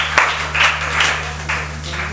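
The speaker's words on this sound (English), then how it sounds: "So let's clap ourselves" An audience at a 2D animation design session gives a short round of scattered claps in uneven bursts, over a steady electrical hum.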